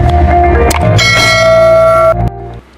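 A notification bell sound effect, bright ringing bell tones sustained for about two seconds, loud and alone, then cutting off sharply.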